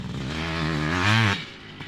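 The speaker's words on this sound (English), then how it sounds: "He's letting the 500 feed up the hill here at VIP Motocross." A Kawasaki KX 500 two-stroke motocross bike climbs a hill on a motocross track. Its close, buzzing engine note rises and swells, then drops off sharply after about a second.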